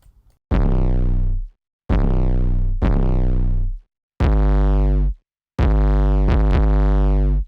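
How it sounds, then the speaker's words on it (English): Distorted 808 bass sample, five heavy booming hits with gritty saturated tails, each decaying and gliding down in pitch, loud and close with short gaps of silence between them. "So it's basically this 808 sample,"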